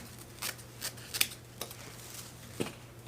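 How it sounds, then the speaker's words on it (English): Scissors snipping through decorative mesh, a handful of quiet, separate cuts at an uneven pace over a low steady hum, with no voices. "At the end, what you want to do is just cut straight across"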